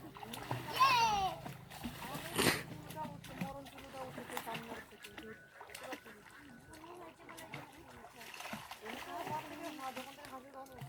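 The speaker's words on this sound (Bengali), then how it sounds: "আর আমার দুই মেয়ে যে জল ঘাঁটছে" Children splashing water while bathing in a village pond, with irregular splashes and stirring water close by, mixed with children's voices and adult talk throughout.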